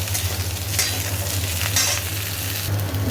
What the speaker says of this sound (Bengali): ভালো করে ভাজা হচ্ছে এখন